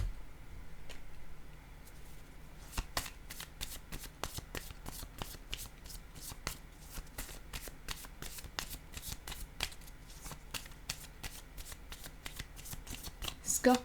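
Tarot cards riffle and slap down in a long, steady run of crisp close-up clicks, with a soft hand-shuffling rustle underneath and no voice.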